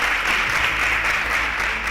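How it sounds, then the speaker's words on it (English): An audience applauds student quiz contestants at a televised school competition, a steady, dense wash of clapping that holds at an even level for about two seconds with no voices over it. "Round of applause for them."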